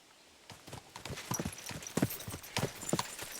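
Horse hooves clip-clop in the video game Kingdom Come Deliverance 2, a steady run of close, moderately loud hoof strikes with a light wash of background ambience.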